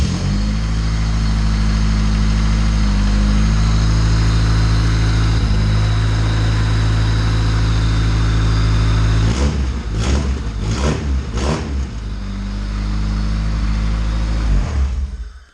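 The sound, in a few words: Honda D16 car engine starting and revving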